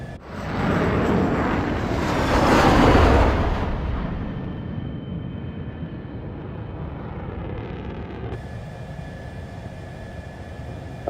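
A heavily damaged jet fighter in the Ace Combat video game roars past loudly, swelling to a broad peak, then settles into a steady, continuous engine drone with no talk.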